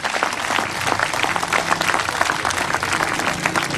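A New Zealand crowd at a strongman contest applauds steadily as a competitor puts in a sprint finish, dense continuous clapping filling the whole stretch at a fairly loud, even level.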